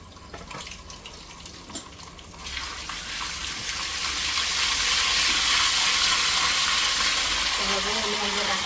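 Asafoetida and ginger-chili paste hit a hot wok and fry: a dense, hissing sizzle builds and grows louder over several seconds, steady and close, with no voices.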